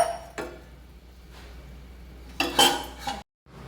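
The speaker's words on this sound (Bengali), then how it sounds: "আমি আবারও ঢাকা দিয়ে দিচ্ছি সব সবজি ভালো করে সিদ্ধ হবার জন্য।" A metal lid is set onto a cooking pot of vegetables, a few close clinks and a sharp rattling clatter, with quiet gaps between them.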